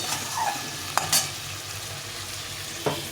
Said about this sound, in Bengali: আমি এই চারশো মতো আলু নিয়েছি আর এক বাটি কড়াইশুটি নিয়েছি একটু ভালো করে কষাতে হবে